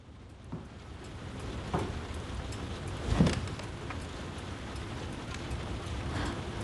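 Heavy rain pours down steadily as a dense, continuous broadband wash, with a few louder splashing surges and faint background detail, and no voices over it.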